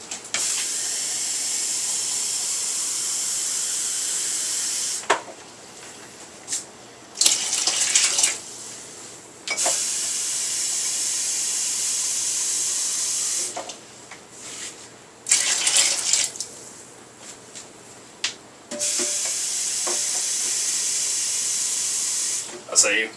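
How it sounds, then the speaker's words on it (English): Water poured from a glass into a pot of simmering old-fashioned beef stew, a steady hissing splash in several long bursts separated by short pauses. "So I'm going to go ahead and add some water"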